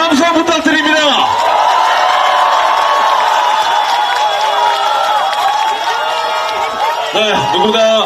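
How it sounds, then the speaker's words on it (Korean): A large crowd at an outdoor political rally in Busan roars and cheers, a loud sustained wash of voices and whoops with a speaker's amplified voice and chanting carrying over it. "박수와 함성 부탁드립니다."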